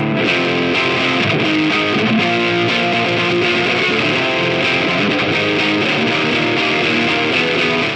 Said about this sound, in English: let's start with the grunge fuzz sound